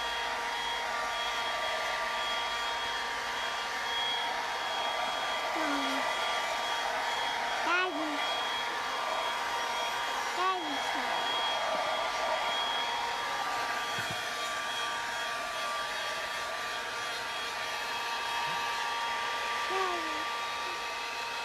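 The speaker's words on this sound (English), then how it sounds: "have my hair dryer turned on high because I want the nice warm air to dry my coffee filter faster" A hair dryer on its high setting blows with a loud, steady roar for the whole stretch, with a few faint clicks and small sounds in the background.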